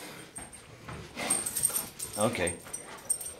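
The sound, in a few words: dog whimpering and barking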